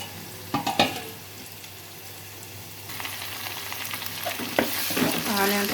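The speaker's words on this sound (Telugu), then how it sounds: "ఆనియన్స్ బాగా వేగిపోయినాయి ఫ్రెండ్స్" Onions fry in a pan for a Nellore-style fish curry, a loud close sizzle with repeated spoon stirring and scraping, the hiss swelling toward the end.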